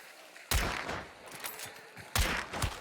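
Gunfire in the Hunt: Showdown video game: two loud, sharp shots or short bursts about a second and a half apart, each with a booming, reverberant tail that fades over the following second.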